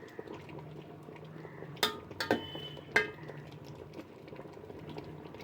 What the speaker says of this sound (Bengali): মাঝে মাঝে এটা নেড়ে দিতে হবে যাতে তলায় লেগে না যায়।